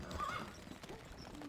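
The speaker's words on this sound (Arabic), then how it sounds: "الفرس تعدو" A horse gallops with quick clip-clop hoofbeats and whinnies in the medieval strategy game Stronghold: Crusader, heard over a steady game background.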